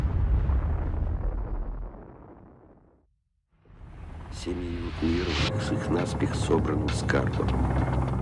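Hydrogen bomb test explosion of about ten megatons, heard as a deep roaring rumble that fades to near silence, then a second surging blast wave of rushing, crackling roar; loud and sustained with no talk.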